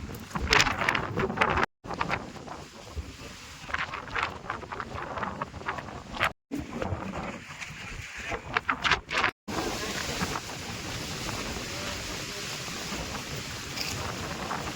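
Strong wind gusting across a misty hilltop fort trek in monsoon season, a loud continuous roar buffeting the microphone, with speech over it in stretches.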